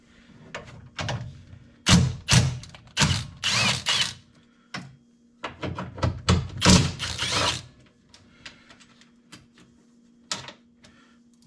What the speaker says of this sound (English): So now we just take these two 10mm bolts out and we can swap this out.